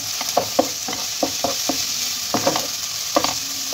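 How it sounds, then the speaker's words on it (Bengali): Garlic paste fries with onions in hot oil under a loud, continuous sizzle, with a spoon scraping and stirring in irregular close strokes through the pan. "এবার রসুনটা একটু নেড়ে চেড়ে নেব পেঁয়াজের সঙ্গে।"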